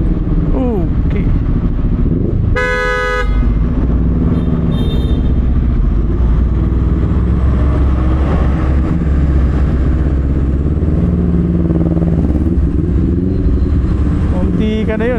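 A Honda X-ADV 750 motorcycle rumbles loud and close in heavy traffic, the engine changing gear as it creeps along with other vehicles nearby. A rider talks over the engine noise, and a short horn-like tone sounds partway through.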